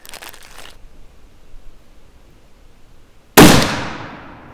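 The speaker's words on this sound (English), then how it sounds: "looks like the third shot went right in the same hole as the first." A single loud shot from a CVA Accura MR-X .50 caliber muzzleloader fires outdoors, a sharp blast that decays slowly. Faint rustling comes before it, and no voices are heard.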